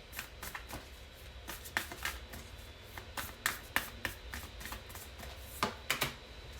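Moonology Oracle cards being shuffled by hand, a run of crisp, quiet riffling clicks and soft slaps in uneven bursts, close and alone with no talk.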